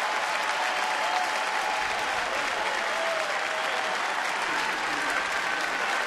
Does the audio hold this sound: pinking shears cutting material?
no